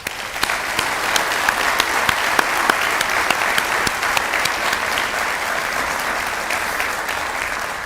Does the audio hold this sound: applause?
yes